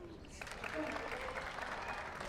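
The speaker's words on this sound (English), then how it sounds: "Big round of applause." Distant crowd applause at a pro pickleball women's singles gold medal match, a faint, steady patter of clapping held for a couple of seconds under a commentator's voice.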